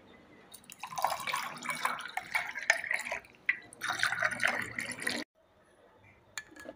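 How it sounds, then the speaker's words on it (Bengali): Water poured into a pot of cooked raw green mango, a close, steady splashing pour lasting several seconds with a short pause, then a brief faint clink. "এবারে পরিমাণ মতো জল দিয়ে দেব।"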